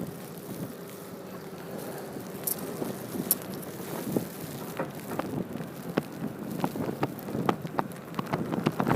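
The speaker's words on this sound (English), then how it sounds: "And wind is really whipping up here now" Strong nor'easter wind roars on a New Jersey beach at Ortley Beach, a steady buffeting rush with microphone gusts and sand-blown crackles throughout, loud and close, with no talk.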